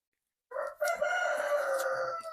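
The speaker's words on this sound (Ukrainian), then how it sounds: "він там кукурікає" A rooster crows nearby, one long, loud, drawn-out cock-a-doodle-doo that holds steady to the end.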